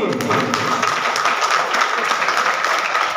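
Loud, continuous applause from a large crowd at a BJP executive meeting in Sainik Enclave, a dense wash of clapping held steady throughout with some voices mixed in.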